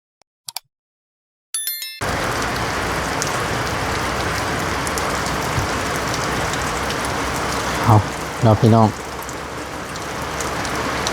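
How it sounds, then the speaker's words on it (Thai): Rain sets in after a short quiet opening and falls as a steady, moderately loud hiss. A voice speaks briefly near the end. "ตกลงมาอีกแล้วฝน"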